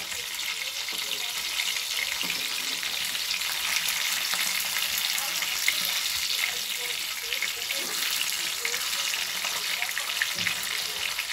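Fried food sizzles and crackles steadily in a hot pan as it is turned over, a continuous close, moderately loud hiss with faint scrapes of stirring and no talking.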